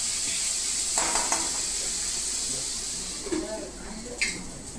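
Potatoes and vegetables sauté in oil in a pan for a faraji samba khichdi, giving a steady soft sizzle with a few spoon stirs and clinks against the pot.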